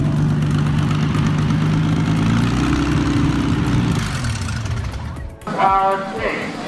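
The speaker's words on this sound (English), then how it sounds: "It carries a wartime Packard 512, once powering fighter planes. Now in a Bentley, it spits fire and thunders" Bentley fitted with a wartime Packard 512 aircraft engine, a loud deep idle rumble with a rising and falling throttle tone, dropping away near the end, where a voice briefly speaks over it.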